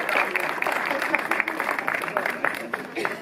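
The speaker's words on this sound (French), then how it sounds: "On peut les applaudir" Crowd applause at the inauguration of a village festival in Holtzwihr, Alsace, a steady patter of many hands clapping, moderately close, with some voices mixed in.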